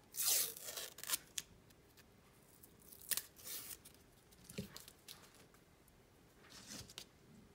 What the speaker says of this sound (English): you can remove the tape on the blade